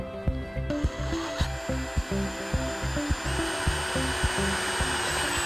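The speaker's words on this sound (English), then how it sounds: "let's drill our pilot holes." Power drill boring 7/64-inch pilot holes into deck stair posts for Trex railing brackets, a close, steady motor whine with rhythmic pulsing and repeated short bursts, no voices.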